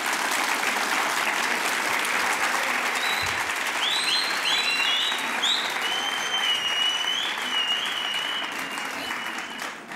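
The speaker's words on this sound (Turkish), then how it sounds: "Anneyi bir alkışlayalım, gelsin mi buraya?" An audience applauds a mother on a Turkish television show, a dense, steady wash of clapping that holds for the whole stretch, with a few faint whistles or cheers rising over it.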